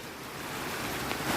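A Kolli Hills waterfall pours down in a continuous hissing roar, steady and close, rising slightly in loudness toward the end.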